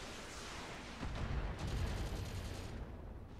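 Weapon fire in the Battletech mech video game: a rapid, dense burst of shots and impacts, loud and close, with a second volley following shortly after and no talk over it.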